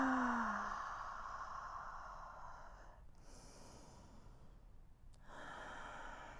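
Deep, audible yoga inhale drawn slowly through the nose during a vinyasa flow, a soft breathy rush in a quiet room, followed by further breaths.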